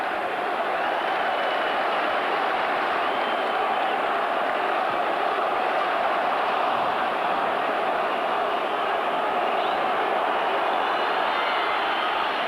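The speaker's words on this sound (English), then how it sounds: "There's a huge cheer from this crowd." Large football stadium crowd at a 1996 Newcastle United versus Manchester United match, a dense, loud, sustained roar of cheering that holds steady throughout with no clear breaks.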